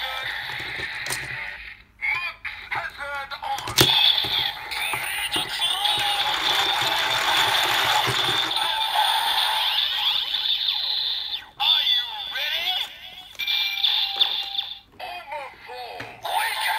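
Electronic sound effects and music from a Kamen Rider Build DX Great Cross-Z Dragon transformation toy play loudly and continuously, with bright synthesized tones, brief pauses and a few sharp clicks.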